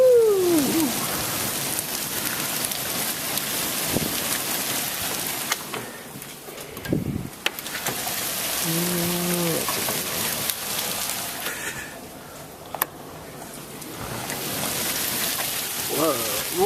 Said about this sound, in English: The rain cometh.